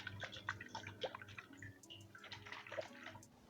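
Water sloshes inside a charred whole coconut in soft, irregular liquid splashes and gurgles, close and faint, with no voices.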